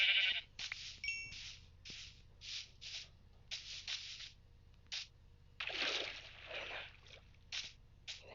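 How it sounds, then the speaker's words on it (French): Sheep in the Minecraft video game bleat repeatedly in short, bright bursts, a dozen or so calls spaced irregularly over a quiet background, with one longer, rougher cry in the middle. "Encore un mouton."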